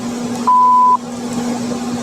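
A single steady electronic voicemail beep sounds for about half a second over a quiet, humming background.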